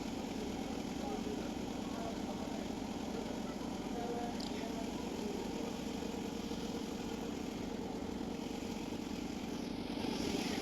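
A boat's engine drones at a steady, even pitch as it crosses the full Ganga toward Nabadwip ghat, a continuous moderate hum with crowd voices and river noise mixed in.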